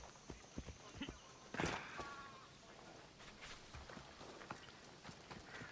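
A horse's hooves clip-clop at a walk in the video game Assassin's Creed Odyssey, faint and rhythmic among quiet in-game ambience.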